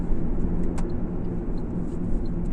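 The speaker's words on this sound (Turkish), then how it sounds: "Şu an 6. vitesi aldım. 2000 devirde 80 ile gidiyoruz arkadaşlar" A Fiat Egea 1.4 Fire cruises in sixth gear at about 2000 rpm and 80 km/h, giving a steady low engine and road drone inside the cabin that holds even for a few seconds.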